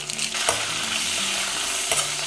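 Steady frying sizzle of onions, crushed ginger, green chillies, curry leaves and dried red chillies in hot oil, with a couple of brief clatters as the pan is stirred.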